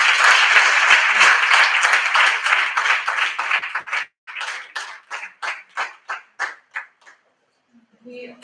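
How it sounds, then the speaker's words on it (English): Conference audience at a Sathya Sai retreat session gives a round of applause, dense clapping that thins into a handful of separate, spaced claps before stopping, with a faint sound at the end. "Another big round of applause"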